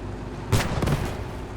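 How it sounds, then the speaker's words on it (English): A tank cannon fires in the WWII shooter game Squad 44, a Staghound against a Panzer IV: one sharp, booming report with a second blast close behind it, set over a steady low rumble of battlefield noise. "The Staghound is broadsiding the Panzer IV with a really superior cannon"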